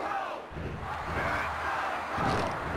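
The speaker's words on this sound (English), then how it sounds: "Listen to this capacity crowd." A capacity arena crowd roars and cheers continuously in the PS1 wrestling game WWF War Zone, a loud, dense wall of voices that swells again toward the end.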